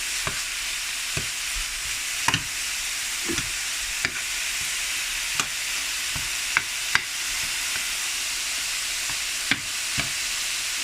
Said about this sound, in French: On va venir ajouter la viande hachée. Alors, on va juste le défaire un peu, mais on ne va pas trop brasser